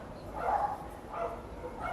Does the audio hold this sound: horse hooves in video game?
no